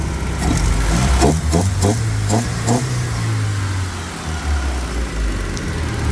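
Vauxhall Corsa B SRi engine running near and loud, a steady low idle with a couple of brief revs rising early on before settling into an even drone.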